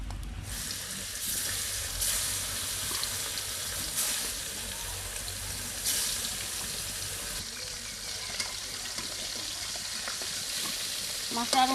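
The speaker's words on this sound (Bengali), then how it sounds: "মাছটা আরও হোক, মাছটা ওদিকে ভাজা হতে থাকুক" Silver carp pieces sizzle steadily as they fry in a pan, with a constant crackling hiss and occasional brief clatter, close and fairly loud throughout.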